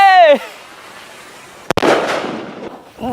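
A sky rocket firework is set off outdoors, with a short whoosh and a sharp pop followed by a crackling burst and fading noise. A voice is briefly heard at the start.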